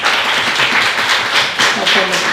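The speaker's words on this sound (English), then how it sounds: "Will y'all give her a round of applause?" Applause and scattered clapping from an audience at a reentry screening panel discussion in a theatre, steady and dense throughout with voices mixed in.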